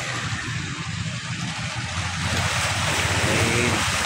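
Sea waves wash along the shore of Manila Bay at Navotas, a continuous rushing surf close by, with a low rumble like wind or a boat engine underneath.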